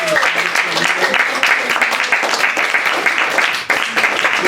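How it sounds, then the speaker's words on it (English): Audience at a hybrid poetry reading applauds the poets, a dense steady wash of many hands clapping throughout, loud and close with faint voices mixed in. "let's give the poets another round of applause."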